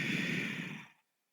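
A long, deep exhale during power yoga practice, a close, breathy sigh that holds steady before fading out into silence.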